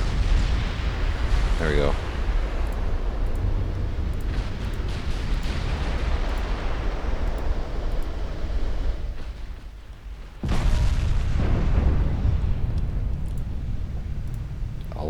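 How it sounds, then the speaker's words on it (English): Naval guns fire and shells explode in the Ultimate Admiral Dreadnoughts game, a US 1945 fleet battle: a sustained heavy rumble of blasts drops away briefly, then a fresh loud barrage bursts in, with someone talking over it. "You guys, fire AP. Sink it."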